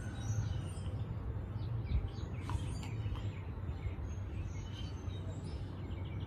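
Faint, scattered bird chirps drift over a steady low outdoor rumble, like wind or distant traffic, heard from a carport, with calls sparse and far off.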